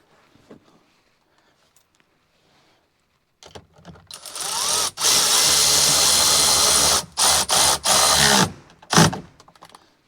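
Bolts are tightened on a 2024 Ford F150 4x4 5.0 gauge pod, with 10mm bolts, after a quiet start. Loud, sustained mechanical whirring follows, broken by short gaps and ending in a final burst.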